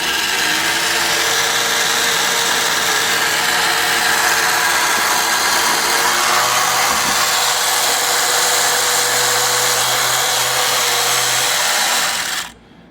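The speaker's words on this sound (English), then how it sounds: "Anyway, here it is running." An 18-inch ITO toy cruiser boat with a large horseshoe electric motor runs steadily and loudly as a constant buzzing whir, close by and uninterrupted, then cuts off abruptly at the end.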